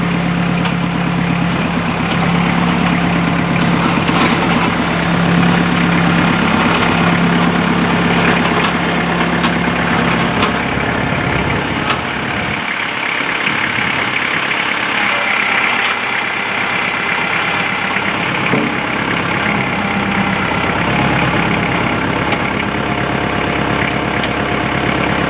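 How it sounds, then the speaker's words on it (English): A forestry winch engine runs loud and steady at a low throbbing idle while pulling trees out of the woods in Maine, with a brief dip in the low rumble midway before it continues. "Hooked on with a forestry winch, and we're going to pull a couple trees out of the woods."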